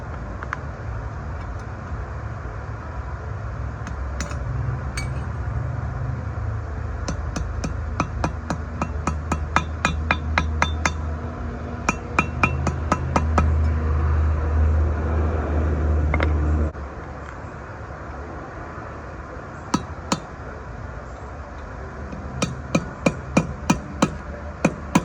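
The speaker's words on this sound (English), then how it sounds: "I'm going to be putting this one in with a punch." A steel punch hammered against a brake bearing race being seated into a hub on a 3500-series van or truck, sharp metallic strikes in irregular bursts over a steady engine-like drone, then spaced louder blows near the end.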